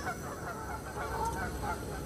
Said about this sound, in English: Geese are off again, look.